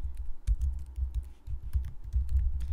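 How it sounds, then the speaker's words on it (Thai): Keys clatter on a computer keyboard as a question is typed into an online form, a steady run of close, fairly loud clicks and taps with no voices. "ก็คือพิมพ์คำถามเข้าไปนะคะ"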